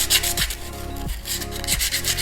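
Sanding around the edge of a Jesmonite terrazzo drinks coaster, a steady close abrasive rub that runs continuously with short rhythmic strokes and brief scraping accents roughly every two-thirds of a second, with no voices.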